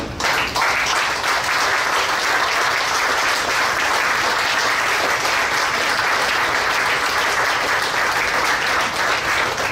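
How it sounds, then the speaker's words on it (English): A room full of people applauds continuously and loudly, a dense steady wash of clapping that fills the whole stretch without pause. "So a round of applause to everyone in this room."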